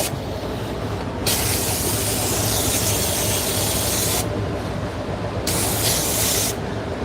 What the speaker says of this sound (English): Let me spray some of this down, because some of this looks kind of weird.